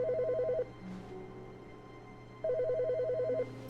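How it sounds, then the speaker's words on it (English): A telephone rings inside the video game The Stanley Parable, two bursts of electronic ring separated by a pause of steady low background hum, clear and fairly close. "Wait, there's a phone ringing now."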